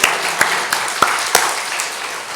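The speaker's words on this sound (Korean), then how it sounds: "하나님께 크게 영광의 박수 돌려드리겠습니다." A church congregation applauds to give glory to God at a Christmas Day service: a few sparse, separate claps stand out over a faint, steady wash of hall noise, short and fairly subdued.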